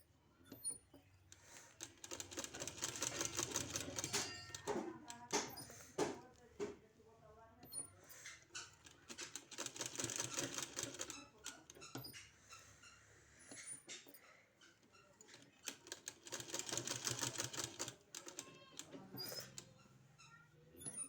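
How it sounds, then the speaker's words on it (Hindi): Sewing machine stitching a narrow pant hem, with several bursts of rapid mechanical whirring, each a few seconds long and separated by pauses, close and moderately quiet. "इसी तरह से पूरे में सिलाई लगा देना है"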